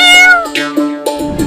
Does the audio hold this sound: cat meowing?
yes